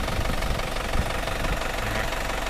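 A running engine chugs steadily with a rough, knocking rhythm, loud and close, with no voices.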